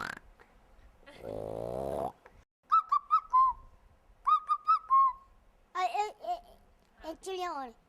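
A voice mimics bird calls: short, high chirping bursts in quick clusters, twice repeated, then warbling trills, following a brief hum at the start.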